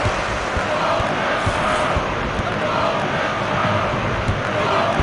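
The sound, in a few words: stadium crowd noise after a goal, from the video game FIFA 2002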